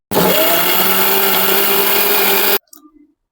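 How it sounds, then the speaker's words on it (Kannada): A kitchen mixer blender whirs loudly and steadily, blending avocado, dates and water, then stops abruptly, followed by a brief clatter of the jar. "ನಾನು ಮತ್ತೆ ಇನ್ನೊಂದ್ಸರಿ ಮಿಕ್ಸಿ ಮಾಡ್ತಿದ್ದೀನಿ"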